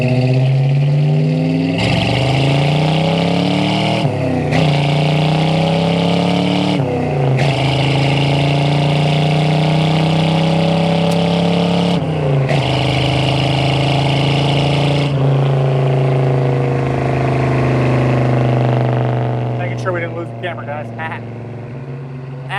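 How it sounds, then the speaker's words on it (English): Original 1971 Ford Mustang Mach 1 with a 351 Cleveland V8 and four-speed, pulling hard through gears: loud, close engine climbing in pitch with each shift, brief dips between gears, then settling to a steady cruise. "we'll get into the throttle some here and test out the Cleveland motor"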